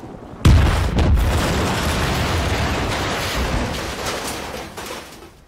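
An explosion in the survival game Rust hits with a sudden heavy boom, then a long rumbling roar slowly fades over several seconds, loud and close.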